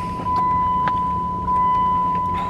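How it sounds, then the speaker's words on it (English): A lift pump on a second-generation Dodge Ram 2500 with a Cummins diesel hums steadily with the key on, a constant close electric whir over low background noise. "You can hear the lift pump is running."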